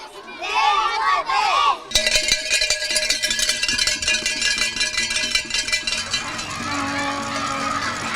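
Roadside crowd in Posavje, Slovenia, cheering on passing racing cyclists, with cowbells clanking rapidly and voices shouting over one another, loud and close. Children's voices are heard briefly before the cheering bursts in.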